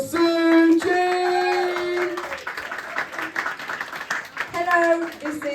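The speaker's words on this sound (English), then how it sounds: "We can get a round of applause for Suji!" A comedy club audience at a charity event claps and applauds for a comedian, a scattered crackle of hands mixed with sustained tones and voices around it.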